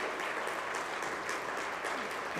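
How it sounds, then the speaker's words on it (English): A crowd claps steadily, a dense patter of applause filling the room throughout. "can we have a round of applause for Mr. Loh Hun Sun"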